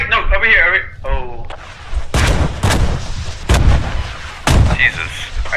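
Artillery bombardment in a multiplayer war game, heavy shell impacts landing in a series of loud, close blasts after some radio-like chatter and talk at the start.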